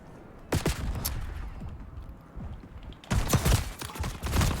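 Shotgun fire from the Brecci in Black Ops 6 crashes out in loud, close blasts, one burst early and a heavier cluster of rapid shots near the end, over a steady rumble of game noise.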